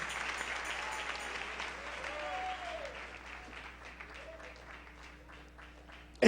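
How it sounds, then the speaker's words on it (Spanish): A church congregation applauding during an evening service, the clapping fading gradually beneath faint, drawn-out vocal tones, with a sharp knock right at the end. "Dale ese aplauso al Rey en esta preciosa noche."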